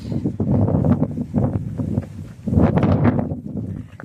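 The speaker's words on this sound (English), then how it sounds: "It is windy as all get out" Strong, gusty wind on the Appalachian Trail near Massey Gap buffets the microphone in rough surges, rising and easing over a few seconds with no talking.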